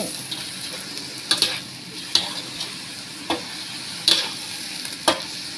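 Drunken beef (pad kee mao) stir-frying in a pan: a steady sizzle with sharp spatula scrapes and clacks at irregular intervals, close and moderately loud, no voices.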